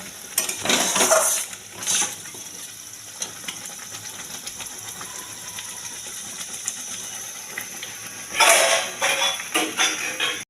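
Pineapple chutney stirred and frying in a pan, with a steady sizzle and bursts of spoon scraping against the pan, alone without talk.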